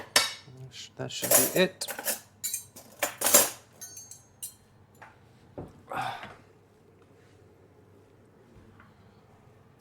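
Metal cutlery and dishes clatter and clink in bursts while someone rummages for a special knife in a kitchen drawer, loud close rattles fading to quiet, with a brief spoken remark near the end.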